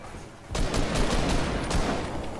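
Video game gunfire: a rapid burst of several loud shots fired in quick succession over a steady background din, with no talking.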